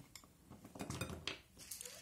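A saucepan is handled as chocolate and butter go in for melting, giving close metallic clinks and clatter of pan and utensils with a scrape near the end; no one speaks.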